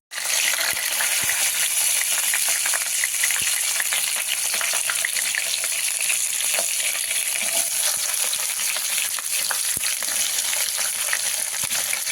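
Chopped onions, green chillies, curry leaves and dried red chillies hit hot oil for a taro curry, starting with a sudden burst into loud, continuous crackling and sizzling and a few sharp clicks.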